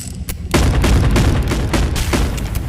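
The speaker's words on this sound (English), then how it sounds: "But this is a revolver unlocked from Hulk Fist or Ogre Fist." Revolver fire in the VR game Animal Company: loud, close booming shots in quick succession with a sharp crack at the start and dense rumbling blasts that run together to the end.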